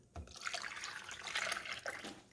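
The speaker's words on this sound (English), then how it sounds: "I'm going to pour in my water." Water poured into the reservoir of a SBOLY/SURIPOW single-serve coffee maker, a steady splashing trickle lasting about two seconds, close and quiet, with no talk.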